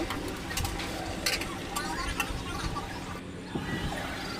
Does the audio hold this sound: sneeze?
no